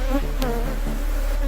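Honey bees drone steadily at an open hive on a rainforest bee farm in Trinidad, a close, continuous buzz with a low hum underneath and no talk.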